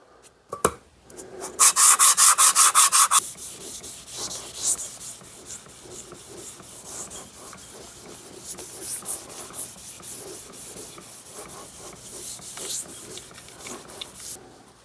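Metal sole of a rare Sedgley No. 4 hand plane rubbed back and forth on sandpaper, starting at 100 grit: a burst of fast rasping strokes, then softer, slower scraping strokes close by.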